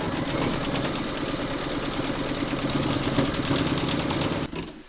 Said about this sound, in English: Pop your hoop into your machine and stitch round number seven to secure it